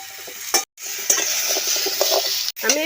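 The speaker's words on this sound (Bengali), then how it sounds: "এবার আমি সিমটাকে দিয়ে দিচ্ছি সিমটাকে একটু নেড়ে নিচ্ছি" Flat beans frying in a pan while being stirred, with a close, steady sizzle and a few spatula scrapes. The sound cuts out briefly twice.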